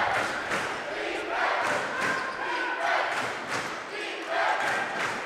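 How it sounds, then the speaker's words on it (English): Crowd at a West versus Pelham high school basketball quarter-final, cheering and shouting in swelling waves with a steady roar throughout and a commentator talking over it. "West crowd getting into it."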